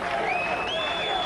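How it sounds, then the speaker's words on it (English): A strongman competition crowd applauds and cheers steadily as a dense, even wash of clapping. The applause is fairly faint and distant, and a faint whistle-like tone rises over it. "Crowd loves him. Listen to that crowd."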